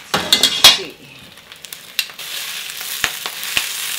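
Kale sizzles in a hot pan over high heat with a steady hiss, broken by a few sharp scraping and stirring clatters near the start and later light metallic taps.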